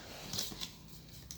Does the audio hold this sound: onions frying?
no